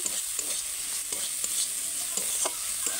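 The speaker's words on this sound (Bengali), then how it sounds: "দেখো মশলাটা ভালো করে কষে নিই চিংড়ি মাছের সঙ্গে" Prawns frying in spice masala in a pan, a continuous bright sizzle with intermittent scraping stirs of a spoon, close and steady with no talking.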